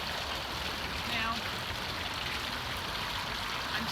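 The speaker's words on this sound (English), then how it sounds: "The water is splashing." Water splashes steadily in a garden fountain in the Sonoran Desert, a continuous broadband rush that fills the whole stretch, with traffic somewhere behind and a voice faintly present.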